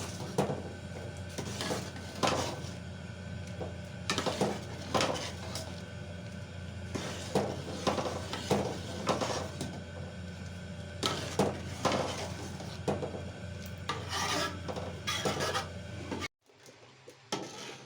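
Tomato ketchup with red food colouring cooks in a pan as a spoon scrapes and stirs, repeated rhythmic scraping and clinks close by, ending in brief silence and a few more scrapes.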